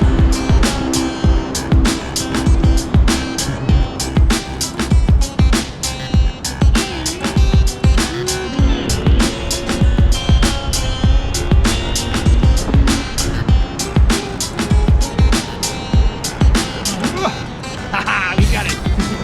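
A VESC-built onewheel on a low-pressure Hoosier T2 tire rides through beach sand, with a continuous rough rumble and rapid crunching, thumping bumps throughout, loud and close, while someone talks over it.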